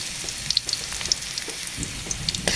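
Garlic sautés in a pan while rain falls outside, a steady close sizzle with scattered small pops and crackles throughout, no talking.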